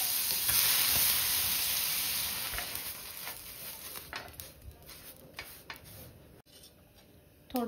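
Water sprinkled onto a hot dosa griddle bursts into a loud hiss that gradually fades into quieter crackling and ticking sizzles, close up.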